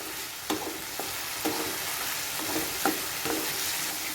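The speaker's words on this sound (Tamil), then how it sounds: "அது வரைக்கும் நல்லா வதக்கி விட்டுக்குவோம்." Pumpkin halwa with sugar sizzles gently in a pan as a spoon stirs and scrapes it in regular strokes about every half second, close and steady with no voices.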